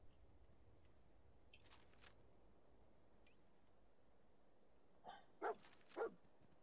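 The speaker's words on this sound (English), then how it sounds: "the dog's found something" Dog in the Fallout 4 video game gives a few short, soft whining and sniffing sounds near the end, faint against a quiet ambient background.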